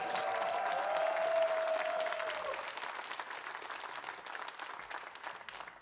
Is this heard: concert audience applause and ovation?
yes